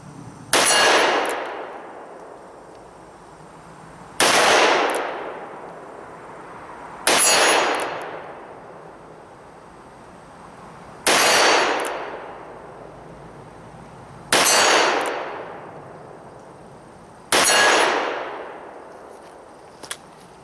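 .357 Magnum 158-grain jacketed hollow points from a S&W 686 revolver strike a 12-inch, half-inch AR-500 steel plate at 25 yards: six sharp ringing clangs, each decaying over a second or two, spaced a few seconds apart.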